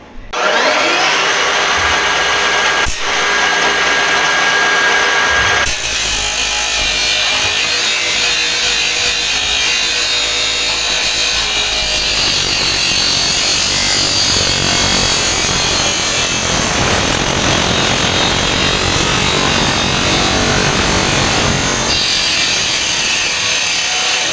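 A power tool cuts metal pieces for a homemade welded barbell jack, a loud continuous grinding rasp that runs without a break for the full stretch, close up and alone, with the tone shifting slightly partway through.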